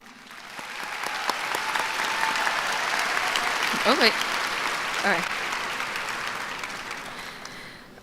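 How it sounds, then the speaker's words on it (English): A graduation ceremony audience at Lake Region High School applauds in steady, dense clapping that fills the hall for the full stretch, with a couple of brief spoken remarks from a nearby voice over it. "they all deserve a huge round of applause"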